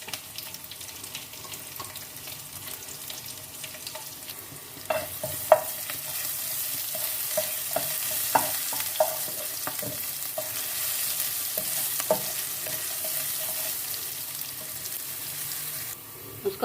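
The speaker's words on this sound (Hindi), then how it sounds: "यहाँ पर हमने लहसुन, हरी मिर्ची, गोल मिर्च ले लिए, वो इसमें हम डाल देंगे और इसको भी हम फ्राई कर लेंगे" Garlic, green chillies, black peppercorns and cumin frying in desi ghee for moong dal, a continuous hiss of sizzling with scattered crackles and pops that grow busier midway, plus faint clinks of stirring.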